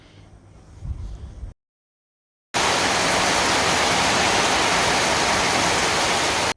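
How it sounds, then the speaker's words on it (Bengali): Heavy rain pours outside as a loud, dense, steady roar. It follows a quieter low rumble and a short moment of silence, then keeps going without letting up. "তুই দেখো প্রচণ্ড বৃষ্টি হচ্ছে মনে হচ্ছে এক্ষুনি জল উঠে যাবে"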